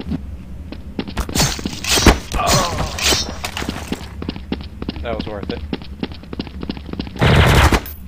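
Rapid bursts of automatic gunfire and single shots in the video game Counter-Strike: Source, loud and close, with a person talking over the shooting throughout.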